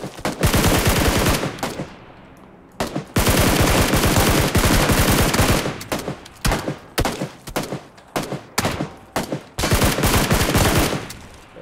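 Gunfire in the PUBG Lite video game: loud, sustained automatic bursts with short gaps, firing in rapid rhythmic volleys throughout, with no talk.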